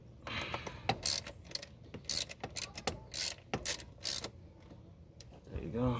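A ratchet tightens a nut on a Toyota throttle body, giving several short bursts of rapid clicking, close and crisp, separated by pauses, with a brief spoken remark at the start.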